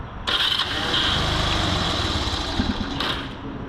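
A 1980 Honda C70 Passport's small engine catches after a brief starter whir and settles into a steady, close putter, the starter sound returning briefly near the end.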